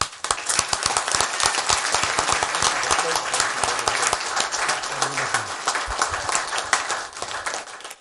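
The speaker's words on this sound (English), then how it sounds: "So we applaud you." Applause and scattered clapping ring out at a village council meeting for the softball champions, brisk and crowded at first, thinning toward the end, with voices murmuring underneath.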